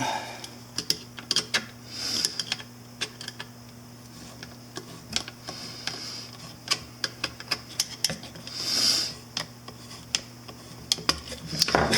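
A metal clamp is fitted onto the air filter hose of a 2000 Yamaha Virago 250 (XV250) motorcycle, giving close, irregular sharp clicks and ratcheting snaps scattered over a quiet workshop background.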